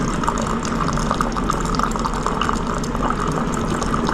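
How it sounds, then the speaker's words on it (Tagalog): Water refilling a container, a steady, unbroken rush of running liquid at close range for the whole stretch, with no pauses or voices. "Napakatagal naman mag-refill ng tubig."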